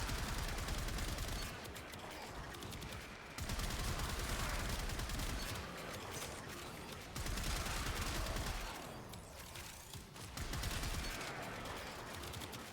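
Komorex rifle firing in the Warframe shooter game, rapid bursts of gunfire in four runs of roughly two seconds each separated by brief pauses, loud and close with no talk.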